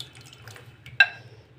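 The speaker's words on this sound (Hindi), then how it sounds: "जापानी फल का पल्प और कॉर्नफ्लोर का जो मिक्सचर था वो हमने इसमें शामिल कर दिया है सॉस पैन में शुगर सिरप के साथ" A mixture of Japanese fruit pulp and cornflour is poured into sugar syrup in a saucepan over low heat, landing with a sudden wet splash after quiet kitchen background.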